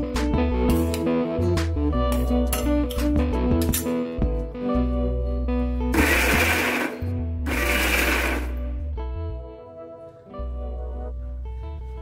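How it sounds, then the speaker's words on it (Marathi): A mixer grinder pulses teasel gourd chutney for a Konkani recipe, whirring loudly in several short bursts separated by brief pauses, with no talk. "अजून ह्याची तुकडी दिसते रसात आणि 1-2-3 पटी मिक्सर फिरवून घेऊया।"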